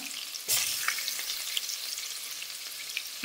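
Garlic hits hot oil with a sudden sizzle that settles into a steady crackling fry, close and fairly loud, with a few stirring scrapes and no talk.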